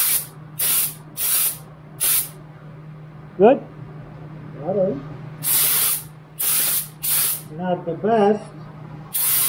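Short hissing bursts of spray primer hit a Subaru Impreza in repeated puffs, close and loud, against a low steady hum, while people talk briefly between the bursts.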